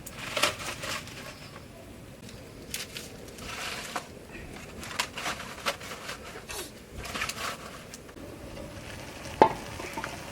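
Taro stolons (lati) frying with egg in a pan, a steady low sizzle with repeated scraping and stirring strokes throughout, close and moderately loud.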